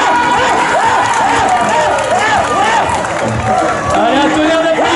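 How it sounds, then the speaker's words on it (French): At a medieval knights-versus-barbarians show in Angers, a large outdoor crowd claps and cheers for a barbarian warrior, a dense, steady roar of applause and shouting voices, with children's whoops rising through it. "Allez, on l'applaudit bien fort."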